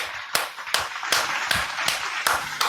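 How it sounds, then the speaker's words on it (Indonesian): A group claps in a slow, even rhythm during an interfaith debate skit, about seven sharp, loud claps spaced roughly every half second. "Wow, keren. Tepuk tangan."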